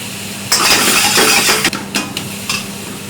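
Minced meat for keema rice is broken into small bits in a pan, heard as loud, close scraping and jabbing strokes over a light sizzle, with a few distinct knocks and no talk.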